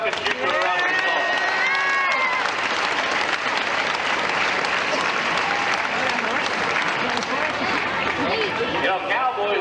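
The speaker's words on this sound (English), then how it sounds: "How about you send him back here to the bucket and shoot for a round of applause?" A rodeo crowd applauds, with sustained loud clapping and cheering across the arena, mixed with crowd chatter and an announcer's voice talking over it early on.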